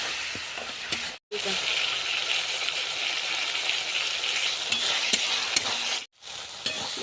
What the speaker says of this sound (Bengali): এবার মশলাটা খুব ভালোভাবে ভেজে নেব তেল ছাড়া অবধি।